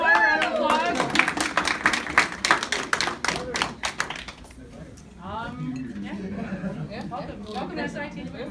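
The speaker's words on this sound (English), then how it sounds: "Let's give Connor a round of applause." An audience claps for a presenter at a talk, a loud burst of scattered applause with cheering that fades after about four seconds, giving way to people talking.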